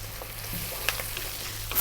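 Tomatoes dropped into a hot pan of chicken curry sizzle steadily at close range, with a soft constant frying hiss and a few small pops and crackles.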